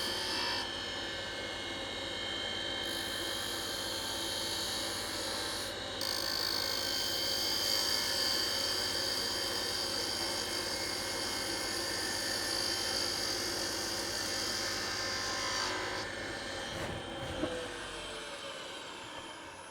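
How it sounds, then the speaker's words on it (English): A wood lathe spins a wooden lid while a 1-inch chisel makes a smoothing cut, giving a steady, loud, continuous whir and hiss of turning wood with no voices. "We're going to grab our 1-inch Q chisel, make a smoothing cut across that."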